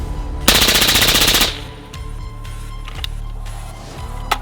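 A rapid burst of about fifteen suppressed rounds from a 5.56 rifle through an Infinity suppressor with a solid end cap rattles loudly for about a second, then gives way to quieter mechanical clicks and handling noise.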